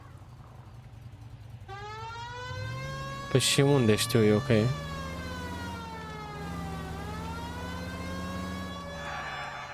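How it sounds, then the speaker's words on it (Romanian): A police car siren in the video game L.A. Noire wails in a rising and falling tone over engine hum, loud and continuous, while someone talks over it in bursts midway. "We might get there quicker if you use the siren."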